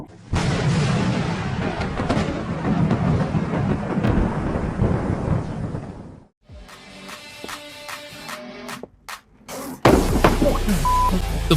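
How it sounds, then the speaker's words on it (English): Lightning strike thunder beside a passenger car on a highway in the Chelyabinsk region in bad weather, a loud rumbling crash lasting several seconds, then a brief drop and further cracks and noise. "In bad weather, a lightning bolt strikes just a few centimeters away from a passenger car."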